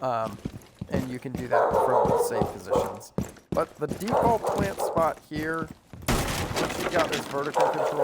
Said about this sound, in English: I'm sorry about my dog. He's just gonna keep barking.